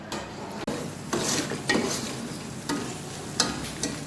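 Masala mixed with yogurt fries in a pot for a beef bong salan, a low sizzle punctuated by several distinct scraping strokes of a spoon stirring against the metal.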